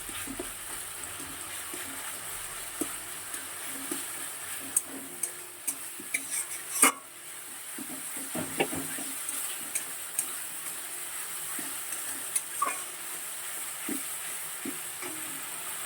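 Spices fry quietly in a pan for katla fish curry, with a soft, steady sizzle and occasional faint stirring clicks and scrapes throughout, heard without talking.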